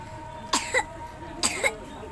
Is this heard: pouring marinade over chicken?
no